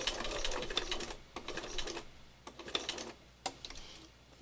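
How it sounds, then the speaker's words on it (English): A sewing machine doing slow stitching runs in short bursts of rapid needle clatter separated by brief pauses, close and moderately loud, with no talking over it. "this is slow machine stitching"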